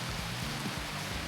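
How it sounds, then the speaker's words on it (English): Heavy rain pours down beside a railway bridge, a dense steady hiss with low rumbling underneath, close and continuous throughout. "now it's chucking it down with rain"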